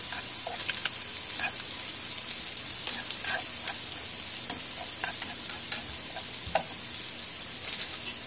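SPAM and shallots stir-fry in a pan with a steady sizzle broken by frequent sharp crackles and utensil scrapes, close and moderately loud, with no speech.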